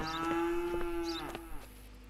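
A cow in the smuggling-checkpoint game Contraband Police lets out a single long, steady moo close by, with no other sound over it.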